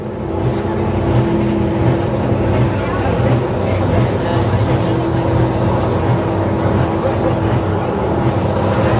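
Pro Stock racers roar during a heat at the 2009 St-Félicien race: a loud, continuous, low engine drone that holds steady throughout, with a commentator talking over it.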